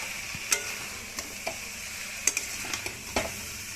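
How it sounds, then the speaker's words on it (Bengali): A potato curry is stirred in a pan, giving soft background sizzling punctuated by a handful of sharp spoon clinks and scrapes against the metal at irregular intervals. "নাড়াচাড়া করে দিই।"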